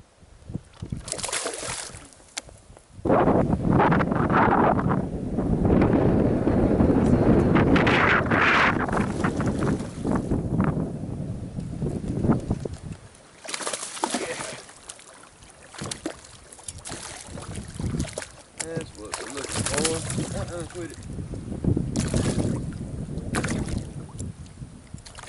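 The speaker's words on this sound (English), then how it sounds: "Wind's blowing so bad it's hard to feel any bites" Strong wind blowing over a farm pond during a fishing outing, heard as loud, rumbling gusts buffeting the microphone in long surges with brief lulls.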